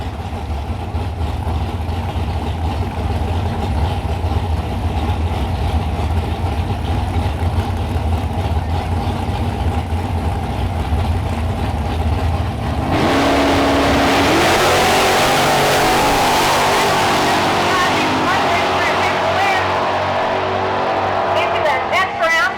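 Drag cars launching off a 410 Pro tree at a no-prep drag race at Ohio Valley Dragway, a steady engine rumble under commentary swelling into a loud, roaring launch that builds and fades down the track.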